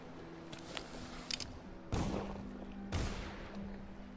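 Gunfire in the stealth game Dishonored: a few sharp, loud shots ring out at intervals with bright broadband cracks, amid smaller scattered impacts over a low steady hum.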